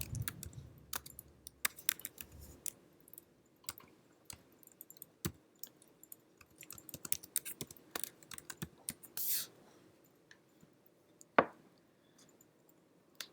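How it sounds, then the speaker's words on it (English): Typing on a computer keyboard into a layout program, a scattered run of light close key clicks with brief pauses and a few heavier taps, quiet and without talk. "And then I'm just going to type"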